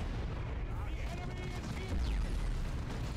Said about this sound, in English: Let's see what the grav gun does.